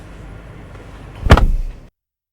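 A 2025 Buick Enclave Sport Touring SUV door shuts with a single solid thump after a moment of quiet rustling, then the sound cuts off.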